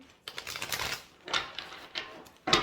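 Tarot cards being shuffled by hand in several short, crisp bursts of riffling and rustling, with brief pauses between them and a final quick burst, close and fairly quiet with no talking.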